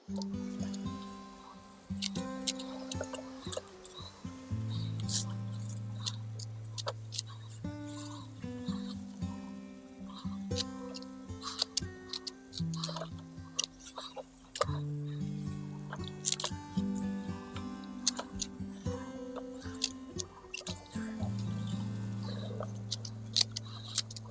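Divided Liatris roots being rinsed with water, a soft patter and dripping that runs through the whole stretch, faint and close, beneath steady background music.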